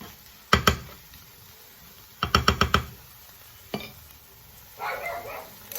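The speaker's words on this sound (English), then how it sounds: "So I'm going to give that a good stir." Chicken curry stirred in a pot: short bursts of scraping clatter, a pair of strokes, then a quick run of four or five, a lone scrape, and a faint softer rustle near the end.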